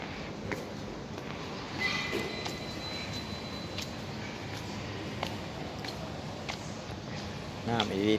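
A train at Luang Prabang railway station rumbles in a busy outdoor setting, with faint wheel squeals, clanks and metallic clicks over a steady low roar, while people talk in the background.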